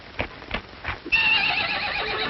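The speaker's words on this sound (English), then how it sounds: "He's a mighty good-looking horse." A horse neighs in a loud, shrill whinny that rises and holds, just after a few hoofbeats clop on the ground in an old 1950 western.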